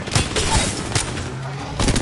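Gunfire in the Apex video game, a handful of sharp, loud shots spaced irregularly with a quicker cluster at the end, close and dominant over a rumbling background.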